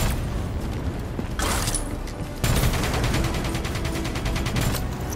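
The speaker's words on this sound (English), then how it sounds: "Get that minigun from the mobile armory" Sustained rapid-fire bursts from a minigun in Call of Duty: Black Ops 3 roar in close, loud stretches, one burst cutting off and a heavier one resuming, with battle din underneath and no speech.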